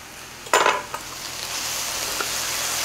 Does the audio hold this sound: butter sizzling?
yes